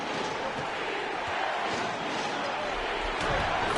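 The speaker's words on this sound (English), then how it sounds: "How about this Utah crowd? They get extremely loud." A roaring Utah home arena crowd in the NBA 2K23 basketball game, a dense continuous wall of cheering and shouting that swells slightly toward the end.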